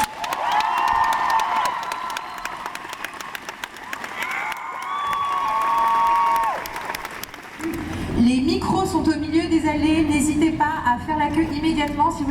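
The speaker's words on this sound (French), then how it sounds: "Je vous demande de faire un tonnerre d'applaudissements à James Masters." Crowd at a Comic Con 2015 event applauding and cheering for actor James Marsters, a dense sustained wash of clapping with shouts and whoops, building loudly toward the end; a voice speaks over the start.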